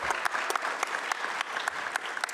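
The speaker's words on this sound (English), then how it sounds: "Let's give them a big round of applause." An audience at a community media conference luncheon claps for the event organizers, a short burst of dense applause with a few sharp, distinct claps standing out near the listener.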